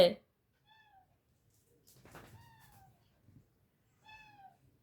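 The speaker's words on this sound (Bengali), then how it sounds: "প্রতিদিন এসে সকালবেলা এসে ডাকবে ওর ব্রেকফাস্ট লাগবে" A cat meowing for its morning food, two or three short, clear meows spaced apart at close range, with a person talking softly in between.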